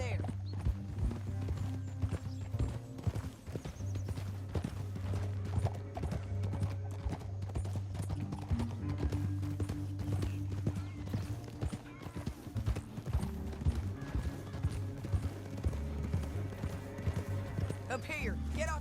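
Horses gallop with steady, loud clip-clop hoofbeats through a rocky canyon in an old western, rhythmic and continuous over a low rumbling score, with an occasional whinny and a few voices talking.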